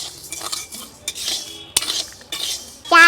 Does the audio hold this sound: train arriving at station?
no